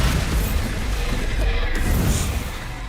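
The Bombarda blasting spell erupts in Hogwarts Legacy combat, a thick continuous roar of booming explosion and rumbling debris, loud and close throughout with no clear pauses.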